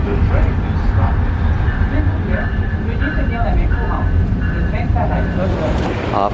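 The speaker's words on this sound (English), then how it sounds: "The train is stopping." An airport cable car train rolls and brakes to a stop, with low rumbling, rattling and faint squeals under a recorded announcement and nearby talking.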